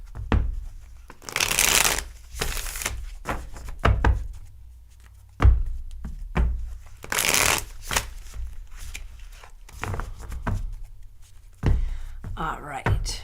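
Lightseer's Tarot cards being shuffled by hand for a three-card reading: a run of crisp, close riffling and sliding bursts with brief pauses and soft thumps between them.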